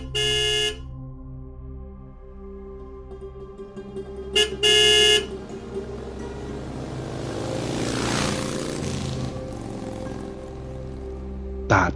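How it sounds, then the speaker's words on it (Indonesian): A cartoon car horn honks in long, loud blasts, one at the start and a double burst near the middle, over a steady engine and traffic drone that rises with a whooshing pass. "saya klakson aja"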